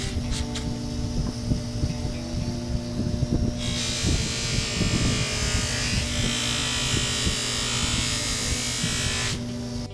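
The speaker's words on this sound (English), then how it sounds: "I took a little time on the buffering wheel and I used some of that Osborne abrasive buffing compound on a soft wheel" A soft buffing wheel loaded with Osborne abrasive compound polishing small parts of a toy model steam engine, giving a steady motor hum with a rising high-pitched whir of friction partway through, close and continuous with no talk.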